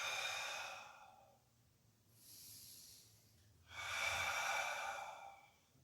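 Breathing in and out during a pilates exercise, soft airy breaths close to the mic, one long breath, a faint pause, then another breath, with no talk.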